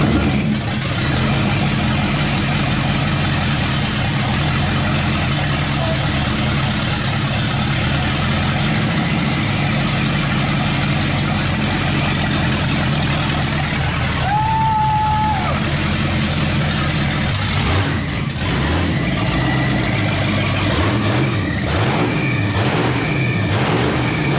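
A 1962 Mercury engine cranks and runs, a continuous low rumbling drone holding steady throughout, with people talking nearby.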